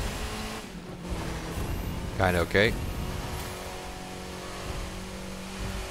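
Stock car engine in The Crew 2 racing game, a steady drone running throughout with a brief louder rev in the middle, under a voice talking.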